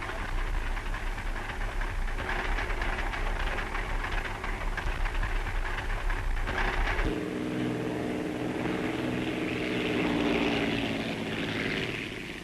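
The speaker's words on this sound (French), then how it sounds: "c'est maintenant au tour de nos chasseurs d'atterrir après avoir accompli leur mission" Morane fighter planes touch down after a mission, propeller engines droning loud and steady, the low roar thinning midway into a smoother, higher whine as one aircraft rolls in.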